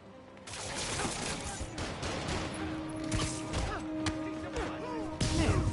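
A flurry of gunshots in the Spider-Man Remastered game, several sharp cracks scattered over a few seconds amid steady street-fight clatter, with one louder hit right at the end.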